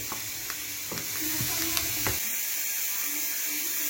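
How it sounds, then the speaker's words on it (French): Onions frying in a pan for a chicken pastilla give a steady, close sizzle with bright hissing crackle, marked by a few scraping stirs early on, then settling into an even fry. "On va juste laisser compoter nos oignons."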